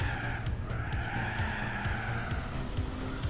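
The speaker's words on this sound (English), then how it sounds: "I was just trying to drive with the way that the car was sliding" Car sliding and skidding in Gran Turismo 4, a Blitz ER34 race car, with steady tire squeal and engine drone running continuously and fairly loud, with no voices.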